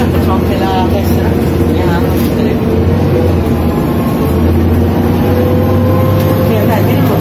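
A BredaMenarini M240NU city bus in Mantova, on line 12, rumbles with a steady low diesel engine drone and interior hum from start to finish, while people talk inside.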